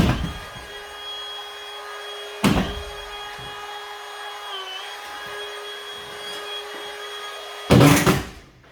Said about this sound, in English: Let me put some screws in it just so I can make sure she doesn't fall down